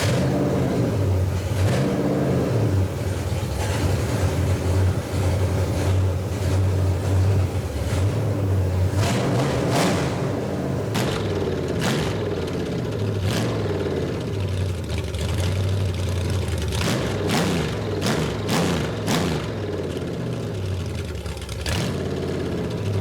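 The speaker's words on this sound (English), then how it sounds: "So this is gonna be a cold start." A Ford 429 V8 in a 1934 Ford coupe street rod starts cold and settles into a lumpy, loud idle. It rumbles steadily and close by, with a few sharp revs toward the end and no talk over it.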